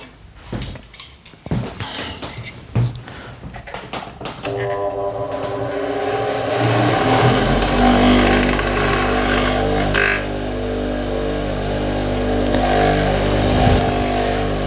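A steel graver is ground against the edge of the rough wheel of a bench grinder. After a few early clicks and knocks, the motor spins up into a steady, loud, droning whine that holds to the end.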